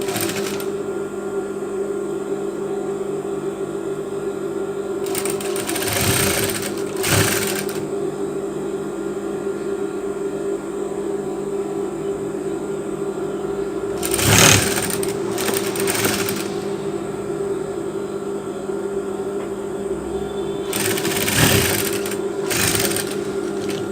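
A sewing machine stitches bias binding onto a tank top, running in three short bursts of rapid mechanical whirring separated by long pauses filled with a steady motor hum.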